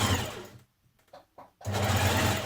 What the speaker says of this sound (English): So we're stitching down this upper sleeve edge.